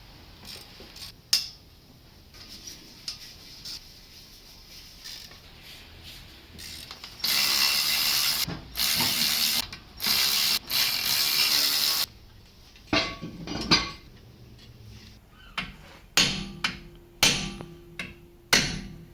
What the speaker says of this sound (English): Alright, so now we're taking off the inner bolts.